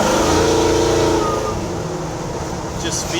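A 1965 Chevrolet C10 truck fitted with a Mass Motorsports motor accelerates, its loud engine droning steadily up close inside the cab while someone talks over it.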